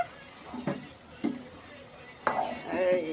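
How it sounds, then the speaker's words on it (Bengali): Meat stirred in a cooking pot at home, with three separate scraping, clattering stirs of the spoon against the pot under faint kitchen hiss, the last one longer and rattling. "মাংসগুলো রাড়াচাড়া করি"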